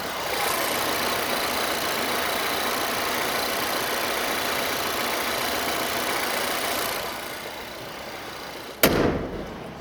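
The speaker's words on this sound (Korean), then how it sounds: "엔진음 들려드릴게요" A 2018 Volvo XC60 SUV engine idles with a steady low rumble for several seconds, then a sharp thump at the end.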